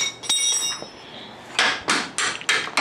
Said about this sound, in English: Doing what a baby hammer does.